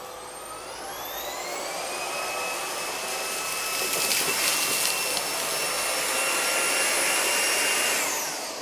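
A Roidmi F8 cordless vacuum cleaner runs steadily with a loud, even whine and airflow roar, its pitch rising as it spins up, then holding before briefly dropping near the end.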